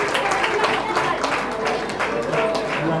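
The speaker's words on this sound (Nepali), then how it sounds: "पास्टर बाजेलाई हामी ताली बजाइदिनेछौँ।" Wedding guests at a Nepali Christian wedding applauding the pastor, a steady patter of many hands clapping at moderate distance, mixed with crowd murmur.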